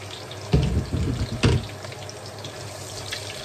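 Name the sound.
onion sautéing with browned garlic in a pan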